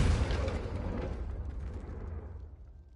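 A Confringo spell explodes in the Hogwarts Legacy video game with a loud, deep boom that hits at once and then rumbles and fades over a few seconds, with no voices.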